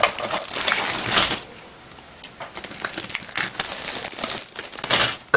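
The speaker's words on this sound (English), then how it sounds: "Cutting that bag open" A plastic bag from a Revell Monogram Aerovette model car kit crinkles and rustles as it is cut open, close up, in irregular bursts with brief quieter pauses.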